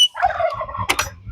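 Ducks calling close by: a drawn-out nasal call that wavers for most of a second, then a short, harsh double burst of calls.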